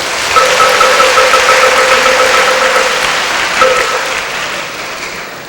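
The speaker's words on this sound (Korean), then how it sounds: "큰 박수 부탁드리겠습니다." Sustained crowd applause at a Buddhist ceremony at the Nonsan Army Training Center, steady and loud throughout, with a faint tonal hum running underneath.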